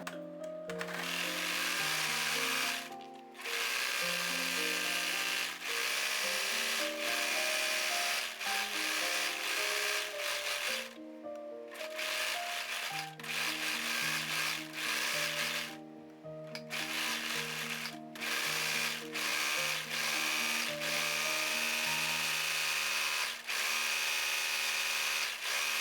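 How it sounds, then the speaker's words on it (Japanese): An overlock sewing machine serges the edge of a garment facing in rapid whirring bursts, each run several seconds long and split by brief pauses, close and steady. "見返しの端にロックミシンをかけます。"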